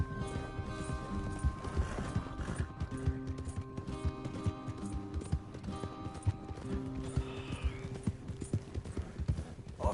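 Horses' hooves clip-clop steadily in Red Dead Redemption 2, a rhythmic run of close, crisp hoof strikes over a soft musical bed, with an occasional faint whinny.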